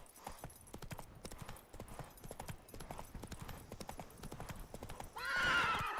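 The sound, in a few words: horse Roach galloping in video game The Witcher 3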